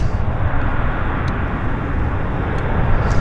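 A jet airliner rolls out after landing at Vancouver Airport, a loud, steady broadband roar of engines and rushing air, close and continuous for the whole stretch with no voices.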